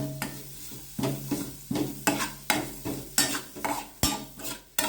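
Onions sautéing in a few spoons of oil, stirred in quick regular strokes that scrape the pan about twice a second over a soft, close sizzle.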